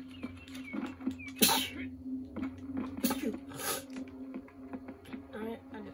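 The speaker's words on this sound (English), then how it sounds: "I just sneezed, excuse me." A person gives one sharp, close sneeze amid the sounds of online Western gameplay, with talk and other short noises before and after it.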